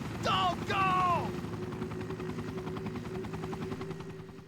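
Helicopter in the Sega Saturn version of Resident Evil, steady rhythmic rotor thumping that slowly thins out as it pulls away, following two brief, loud rising-and-falling vocal cries at the start.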